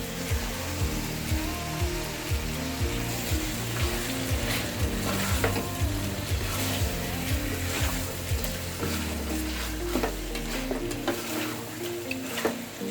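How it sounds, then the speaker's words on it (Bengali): Dried chili paste frying and being stirred in a pan with a steady sizzle, a spoon scraping the pan in rhythmic strokes close by, with no talk. "এখন একটু মশলাটা ভালোভাবে একটু নাড়াচাড়া করতে হবে।"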